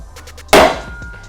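A single sharp hammer blow rings out close by, striking a stuck bearing during a BMW E46 M3 clutch job, followed by a brief metallic decay and a few faint clicks.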